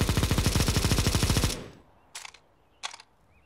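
Rapid automatic gunfire in the video game CSGO: a fast, loud burst of about twenty close shots lasting a second and a half, followed by two short, sharp single reports after a pause.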